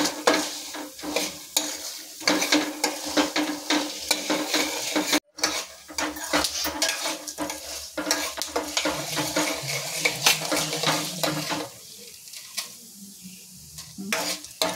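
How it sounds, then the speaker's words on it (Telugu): Chana dal, peanuts and urad dal tempering in a little hot oil, with a crackling sizzle under repeated metallic scrapes and clinks of a spoon stirring in the pan, one brief gap midway. "తాలింపు కొద్దిగా కొద్ది ఆయిల్లోనూ వేసుకోవాలి."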